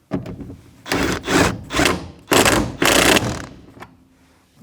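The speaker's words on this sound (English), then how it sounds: "I gotta get the air gun or electric gun. I'm gonna snug it up" An air or electric impact gun snugs up a seat belt receptacle bolt on a 1992-1996 Ford F-150, firing several loud rattling bursts of varying length separated by short pauses.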